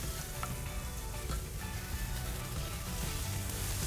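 Grilled oysters with butter sizzle steadily on a grill, a continuous crackling hiss with small pops as the butter flares up, with no talk.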